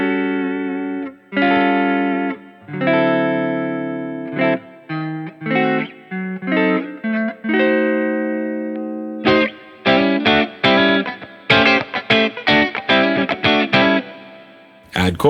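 Electric guitar played through a Line 6 POD Go using a free Diesel VH4 high-gain amp preset with only reverb added, giving sustained distorted chords and then quick staccato riffs, loud and close with no talking.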